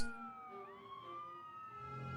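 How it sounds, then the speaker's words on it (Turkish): A wailing ambulance siren with steady, sliding tones rises and falls continuously, fairly close and prominent, with no voices. "Bu ses bizi evlerimize hapseden koronavirüsün bir hayatı söndürmek isterken hayır buna izin vermem diye çığlık atan ambulansın sesi."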